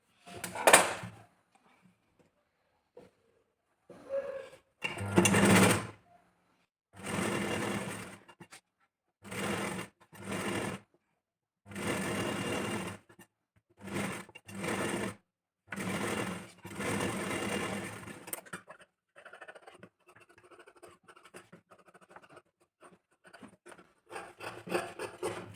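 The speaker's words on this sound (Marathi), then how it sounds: "तर पूर्ण याच्यावरती स्टिचिंग करून घ्यायची सर्वात अगोदर." Sewing machine stitching blouse pieces for a 32-size princess-cut back-open blouse, running in repeated short bursts of whirring, each a few seconds long with brief pauses between, close and fairly loud, followed by quieter handling and rustling of fabric.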